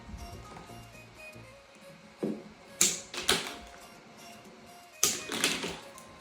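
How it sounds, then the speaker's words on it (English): Electrical wire is trimmed and cut during a tub-to-walk-in-shower conversion, a few sharp close snips and clicks in two small clusters over faint room noise, with no talk. "So what I'm gonna do is trim it, cut it right around here."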